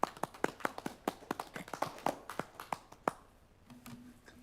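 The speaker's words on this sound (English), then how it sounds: "Golf clap." Soft, sparse golf clap of a few people at a city board meeting, about a dozen light separate claps over three seconds, close and alone, then quiet room tone.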